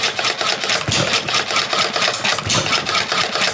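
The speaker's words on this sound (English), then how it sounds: "Very nice engine." An early Ervin hit-and-miss engine running, with a brisk, regular mechanical chuffing and clatter that pulses steadily at close range.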